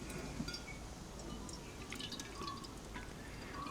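Freshly ground wheatgrass juice poured into a vessel and strained, giving soft continuous liquid splashing with a few distinct drips, quiet and close.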